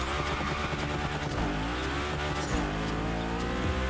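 Fully electric car in a racing video game, a continuous loud whine with no engine roar or gear changes, its pitch gliding upward and dropping at a couple of points, over a steady rumble with tyre noise.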